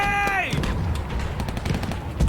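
Gunfire and explosions from a music video, a World War I battle scene with a loud broadband burst followed by dense crackling shots and impacts under music, ending in a heavier blast.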